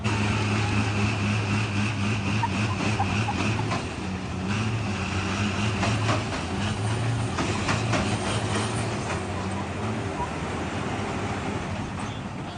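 Two Volvo trucks, a sleeper and a day cab, rev flat out while shoving each other in a ring, a loud steady diesel roar with shifting low engine tones throughout.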